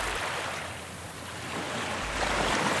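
Rushing water of the Rhine river, a steady broadband wash that swells louder toward the end, heard alone without voices.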